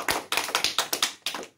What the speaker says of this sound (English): So let's give everyone a big clap to the world.